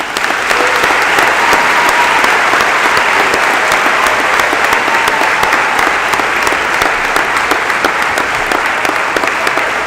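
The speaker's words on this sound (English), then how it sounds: "let's give them one big round of applause" A graduation audience gives graduating high school seniors a long, loud, sustained round of applause, dense continuous clapping from a large crowd with no pause throughout.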